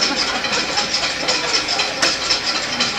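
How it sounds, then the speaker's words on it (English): A diesel engine at a conference demonstration runs at idle in neutral with a steady, even mid-pitched drone and a faint rhythmic knock, fairly loud and close throughout. "Now to shut down one of these engines"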